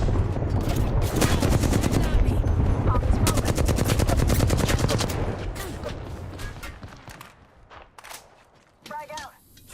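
Rapid automatic gunfire in the Apex Legends video game, loud bursts of repeated shots that thin out into scattered single shots and quieter effects toward the end.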